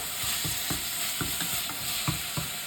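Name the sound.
stirring chole masala with ginger garlic paste in pot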